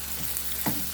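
Courgette and minced beef being sautéed in a pan, with a soft steady sizzle and a brief louder scrape of stirring near the end, no voices.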